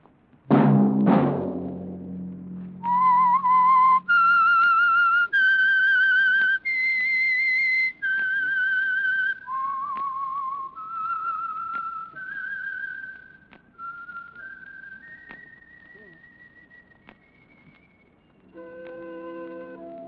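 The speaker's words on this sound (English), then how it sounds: "Let that whistle be your signal for the Signal Oil program, The Whistler" A whistled melody serving as the signal for The Whistler radio program, opening with two sharp percussive hits and then a clear, loud solo whistle stepping through a series of sustained notes in a slow, descending tune.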